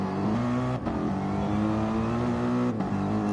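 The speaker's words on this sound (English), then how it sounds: "So looking for a move then, Luis Marino, he's taking the inside line" Gr3 race cars in a sim racing event at Monza, engines revving loudly and steadily with a rising pitch, a brief dip as a gear shifts, then climbing again, close and continuous.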